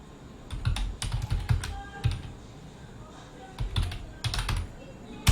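Typing on a computer keyboard, clustered bursts of crisp key clicks with short pauses between, close and moderately loud, over a quiet room.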